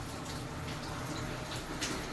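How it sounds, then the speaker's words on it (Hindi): Water runs steadily into a water tanker truck at a water works in Saudi Arabia during heavy rain, a continuous broadband rushing and splashing that holds at an even level throughout. "पानी आ रहा है"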